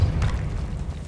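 In Hogwarts Legacy, a Depulso force spell hits with a short, heavy low thump, followed by a brief rumbling tail that fades under steady game ambience, with no talking.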